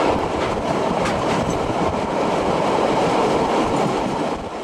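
A train running along a railway line near the Waimakariri River, a steady loud rumble of wheels on track that holds throughout and eases slightly at the very end.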